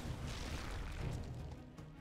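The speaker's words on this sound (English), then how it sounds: "The command center explosion" A command center exploding in StarCraft 2 gives a dense, sustained low rumble of blast and crumbling debris, loud and steady for about two seconds with no speech over it.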